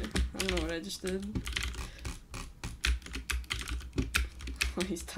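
Rapid computer keyboard typing in bursts of sharp clicks, mixed with in-game sound and a player's voice talking over it.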